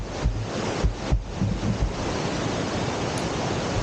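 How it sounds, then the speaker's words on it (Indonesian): A river rushes during a crossing on a rainy hike on Mount Ungaran, a loud and steady wash of water close to the mic, with wind buffeting and a few low thumps early on. "Mas Ramu nyebrang sungai kondisi hujan lumayan deras."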